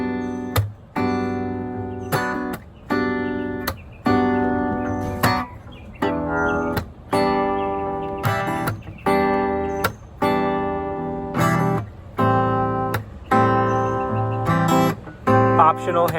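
Guitar plays the four-chord progression of a song, covering intro, verse and chorus, strummed in a steady rhythm of repeated chord hits with brief gaps between changes, close and fairly loud, with no voices.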